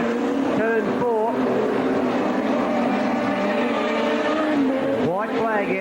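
Modified race cars roar around the Borderline Speedway track in Mount Gambier, a continuous loud engine drone with rising and falling revs as cars pass, under a race commentator talking throughout.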